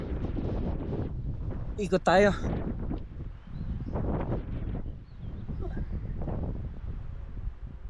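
Strong wind at a campsite rushes and gusts in broad noisy waves, with someone speaking over it partway through.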